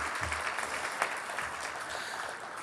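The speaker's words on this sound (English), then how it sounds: "We'll take that applause." Audience applause at a law school alumni awards reception, a moderate even patter of clapping from a room of people, fairly quiet and steady.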